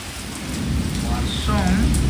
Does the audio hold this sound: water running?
no